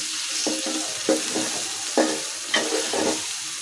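Spices and ginger-garlic paste fry in leftover fish oil in a pan, giving a soft steady sizzle broken by several brief stirring scrapes, close and fairly quiet.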